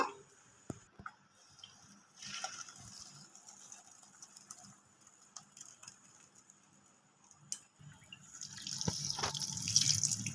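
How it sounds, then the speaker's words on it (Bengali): Curdled milk chhana, split with vinegar, being poured and strained through a cloth, with soft trickling water, scattered drips and small clinks that swell into a louder pour toward the end. "ছানাটা খুব ভালো হয়ে কেটে গেছে দেখুন আমি এবার ছেঁকে নেব"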